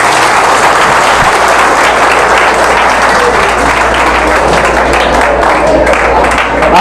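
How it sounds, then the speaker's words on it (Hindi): Loud, dense clapping from a room of participants at a Rajyoga meditation session, sustained and even for several seconds with a crowd wash underneath. "अपने लिए तालियां बजा दीजिए।"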